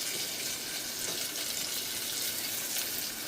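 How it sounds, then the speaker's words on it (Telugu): Masala paste fries with onions in a pan, a soft continuous hiss at modest level with no voices. "ఆ మసాలా ముద్ద వేసి చక్కగా వేయించాలి"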